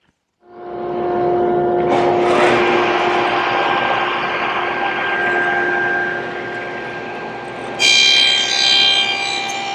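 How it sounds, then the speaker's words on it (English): Power tool whirring at a steady high pitch as it cuts a wooden tenon, loud and close, with the pitch shifting as it bites into the wood and a sharper burst near the end. "So let's go cut this tenon."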